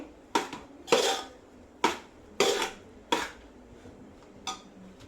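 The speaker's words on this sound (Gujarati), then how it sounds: "સતત હલાવતા રહેવાનું છે તળિયે દાજી જવું ન જોવે" A spoon scrapes and knocks against a metal pan in six separate strokes while mohanthal sweet roasts over low heat, each a sharp clatter that fades quickly.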